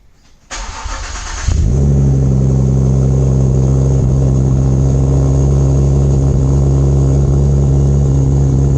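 A tuned Ford EcoBoost engine with a new exhaust starts up and settles into a loud, steady, droning run close by, a brief rising whine leading into the constant rumble, with no talking.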